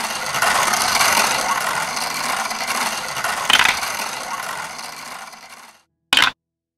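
Prize wheel spinning with a steady rapid ratcheting click that slowly fades and slows over several seconds before stopping, followed by one short final burst.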